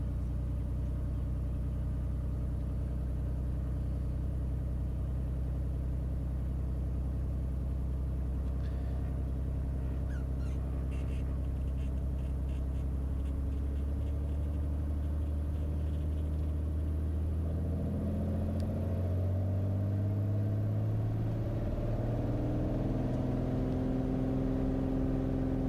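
A Beechcraft Bonanza's piston engine on its takeoff roll from runway 24 at Toledo, Washington: a loud, continuous droning rumble that steadies and then climbs in pitch as power builds, heard alone.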